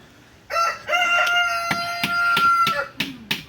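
Backyard chickens with a rooster crowing loudly nearby, one long crow followed by short clucks and calls from the flock, heard alone without talking.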